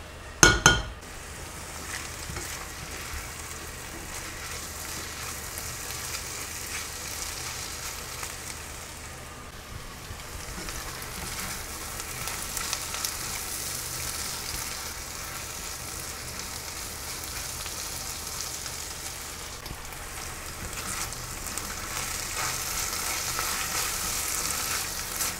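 Sliced onions sizzling steadily in a pot for gratinéed French onion soup, a continuous close frying hiss with a brief clink of utensils at the start.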